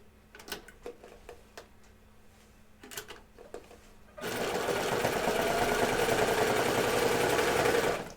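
A sewing machine runs a chain stitch on Hudson pants, starting after a few sparse clicks and then humming loud, steady and close without a break.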